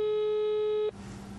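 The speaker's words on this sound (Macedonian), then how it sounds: "на нејзиниот мобилен телефон никој не се јави." A telephone busy signal heard while calling a mobile phone, one loud, steady electronic tone lasting nearly a second that cuts off abruptly, leaving quiet background hiss.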